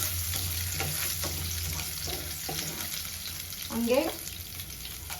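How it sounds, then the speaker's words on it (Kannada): Mustard seeds splutter and crushed garlic fries in hot oil in a pan for a Kannada bassaru, steady close sizzling with scattered pops, briefly stirred and spoken over once. "ಈ ಸೈಡು ಸಾಸಿವೆ ಚಟಪಟ ಅಂತ ಇದೆ."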